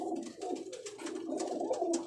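A fancier's pigeon on a rooftop coos in low, soft, repeated throaty phrases, close by, with faint chirps from other birds behind it.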